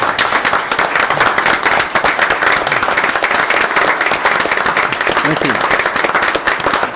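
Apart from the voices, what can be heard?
audience applause for a speaker at a city council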